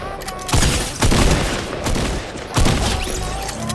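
Rapid bursts of boss gunfire in the Fortnite video game, loud and close, arriving as several heavy volleys with sharp onsets around crackling shots.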